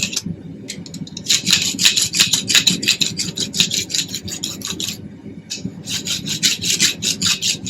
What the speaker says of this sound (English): I'll switch back over to the file side of the rasp. This is a farrier's rasp.